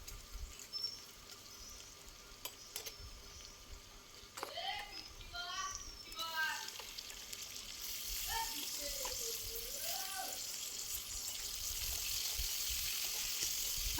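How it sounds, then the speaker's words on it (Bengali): Potatoes frying in oil in a pan give a faint sizzle that builds into a steadier, louder hiss, with brief high voices heard early on. "আলুটাও আমি হালকা ভেজে নেব।"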